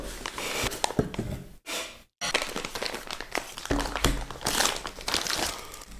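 Plastic baggies being crinkled and crunched while a Uni MK1 Pro kit is unboxed, close and irregular, with short pauses and a few breathy sounds in between.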